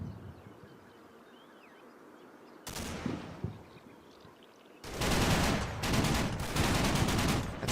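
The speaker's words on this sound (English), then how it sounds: "That's a good 50 cal for you." A .50 cal machine gun fires in the Combat Mission video game, loud rapid bursts with short gaps after a quieter stretch and a brief earlier rattle, close and dominant over faint background noise.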